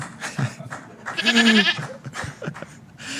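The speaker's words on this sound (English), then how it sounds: "what's that? Goat." A single goat bleats once, loud and close, with a wavering cry in the middle of the clip, set against background sounds.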